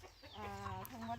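Chickens clucking in a free-range flock of about fifty birds on a small mixed farm in rural Thailand, a close, steady run of low clucks and calls with a rooster-like tone, no talk over it.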